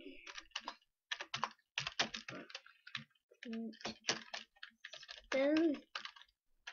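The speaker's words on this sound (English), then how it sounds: "it's wicked hard to type right with this keyboard" Someone types on a stiff, hard-to-use computer keyboard close up, with bursts of sharp clicking keystrokes separated by short pauses and a couple of brief voiced sounds mixed in.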